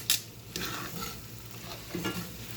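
Meat for spaghetti sauce cooks in a pan, with a soft, low sizzle broken by a few scraping stirs of a utensil, heard close but fairly quiet.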